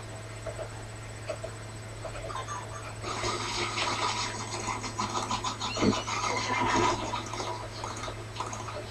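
Water filling a truck in a video game, a rushing, gurgling pour that swells midway and then stays steady over a constant low electrical hum, fairly faint with no talking.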